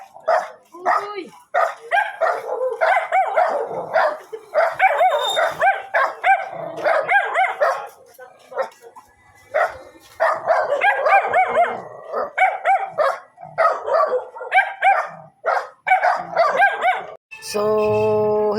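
A dog barks repeatedly in rapid bursts with short pauses between runs, loud and close, with a few yelps and a brief whine near the end.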